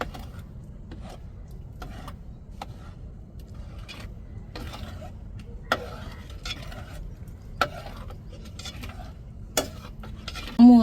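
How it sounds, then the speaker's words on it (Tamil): A utensil stirs food in a cooking pan, making soft scrapes and sharp clicks roughly every second over a quiet, steady low hum. "நம்ம நல்லா கிளறி கொடுத்துக்கிட்டே இருக்கணுங்க."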